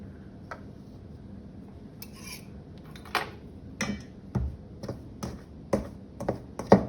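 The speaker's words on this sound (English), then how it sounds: "this is a pastry blender. And I'm going to push it against the side of the bowl" A pastry blender pressed and scraped against the side of a mixing bowl while making biscuits, giving a series of sharp metallic taps and clicks that grow louder and more frequent after a few seconds of quiet rubbing.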